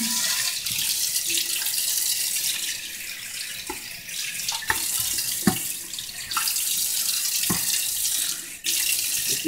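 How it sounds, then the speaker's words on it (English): Water runs from a tap to rinse out an Emson pressure smoker outdoors, a steady loud hissing splash with occasional knocks and clunks of the pot. "Okay, I'm going to give it a rinse."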